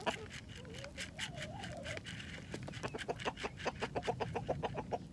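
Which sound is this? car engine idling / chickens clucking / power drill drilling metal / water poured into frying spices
chickens clucking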